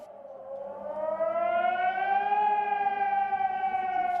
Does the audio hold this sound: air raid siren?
yes